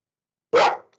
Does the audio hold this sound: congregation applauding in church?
no